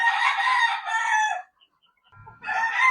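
A Claret rooster crows loudly and close, a long drawn-out call, then a brief pause with low clucking from hens before another crow begins.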